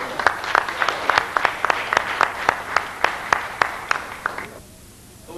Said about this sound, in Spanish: Vamos a recibir un aplauso al pastor.